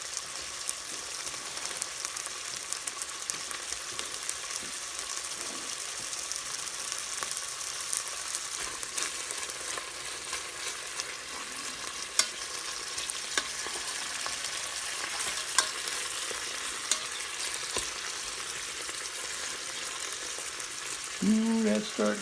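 Mirepoix for gumbo fries inside a rice cooker with a steady, moderate sizzle and faint crackle, occasionally stirred, continuing evenly without voices.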